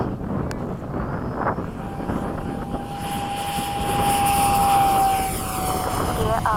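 Fixed-wing aircraft engine roaring loud and close as the plane takes off, swelling to a peak midway with wind buffeting the microphone, while a voice speaks briefly over it.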